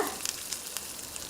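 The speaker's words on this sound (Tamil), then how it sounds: "இந்த மசாலா நல்லா அந்த எண்ணெயோடு சேர்ந்து வேகணும்" Masala for pepper chicken fries in oil in a pan, giving a close, steady sizzle broken by quick bright pops and crackles over the short stretch.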